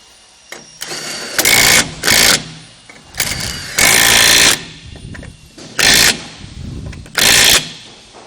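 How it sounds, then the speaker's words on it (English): Lug nuts being fastened onto a flat spare tire mount on a 7712H BT with a power impact tool, sounding in four loud bursts of rattling hammering, each about half a second long, with quieter mechanical noise between them. "We'll go ahead and put our lug nuts on."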